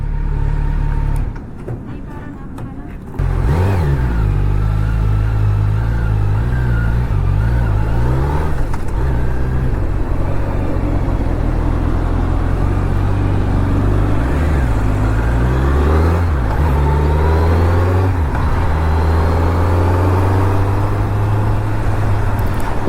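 Kawasaki Z900 superbike engine revving on the road as the rider shifts up through the gears, a loud steady drone with rising and falling pitch sweeps and gear-change dips, close and continuous with wind noise.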